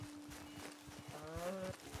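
A cow moos inside the Red Dead Redemption 2 open world, a drawn-out low bellow rising partway through and holding steady, heard up close over background game sounds with no talking.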